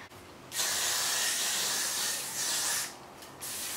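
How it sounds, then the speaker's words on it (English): Close, steady hissing of an aerosol hair spray on natural hair in one long burst, a brief dip, then a shorter burst after a pause. "I'm just spraying got to be all over"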